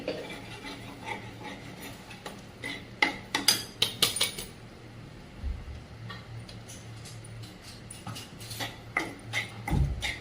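Ground moong dal for halwa tipped into a pan and stirred, with clinks and scrapes of a metal spoon against the pan, clustered in quick taps and then sparser, close and moderately quiet, no talk.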